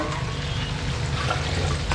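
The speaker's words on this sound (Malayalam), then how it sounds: "വെള്ളം ഒഴിക്കണം." Water poured from glasses into a cooking pot for a large batch of biryani, a steady rushing splash heard close and alone for about two seconds.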